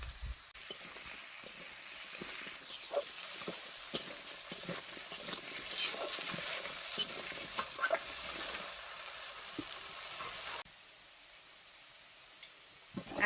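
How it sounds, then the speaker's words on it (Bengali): Potato pieces seasoned with salt and turmeric fry in a pan, a soft continuous sizzle broken by scattered stirring clicks and scrapes, quieter for the last few seconds. "আলু ভাজা হয়ে গেছে"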